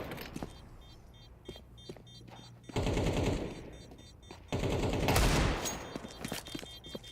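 Bursts of automatic gunfire in the tactical shooter Counter-Strike during a BLAST Premier Bounty match, loud rapid volleys with short pauses between, along with quieter clicks and game effects in between.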